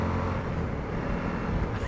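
Suzuki V-Strom 1050 motorcycle engine pulling through its mid-range on a cold arctic ride, a continuous low droning rumble with wind roar, steady and close from the rider's position.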